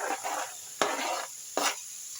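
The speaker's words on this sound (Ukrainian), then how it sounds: "Все гарненько перемішую." A spoon stirs a vegetable stew with eggplant in a pan, giving close scraping strokes with two sharp clacks amid a light sizzle, with no voices.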